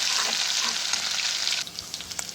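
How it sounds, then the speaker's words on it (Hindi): Loud, steady sizzling of cumin, green chillies and garlic frying in a pan for radish chutney, with stirring scrapes near the end as the hiss briefly drops. "तो इसमें हम अच्छी तरह भून लेंगे"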